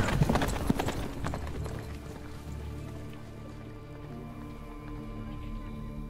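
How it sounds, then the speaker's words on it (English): Horses ridden in The Witcher III: Blood & Wine, hooves clip-clopping in a quick irregular rhythm that is loudest at first and then fades under a steady low musical drone. "we ready our horses and ride to the palace"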